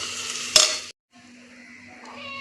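Rice and ingredients for ghee rice fry in a pan while being stirred, giving a close sizzle with a sharp scrape of the utensil, a short pause, and then quieter frying hiss.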